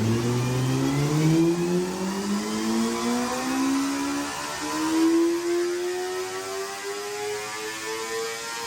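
CFMOTO 500SR motorcycle engine on a chassis dynamometer, revving in one long, steady sweep through the gears, its whine rising in pitch and staying loud and close throughout, with no talking.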